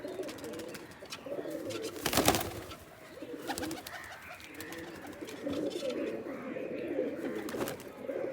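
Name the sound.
Giribaz pigeons cooing in loft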